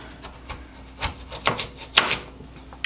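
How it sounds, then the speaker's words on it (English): Knife slicing sweet potatoes into quarter-inch pieces on a board, a few separate soft cuts and board knocks spaced about half a second apart, close and fairly quiet. "And then cut these into about 1/4 inch size pieces."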